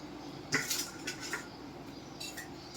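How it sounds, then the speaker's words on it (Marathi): Metal spoon scraping and clinking in a pan while stirring pitla, a gram flour dish, a few short close scrapes and taps, fairly quiet, without talk. "परत एकदा छान हलवून घ्यायचं आहे"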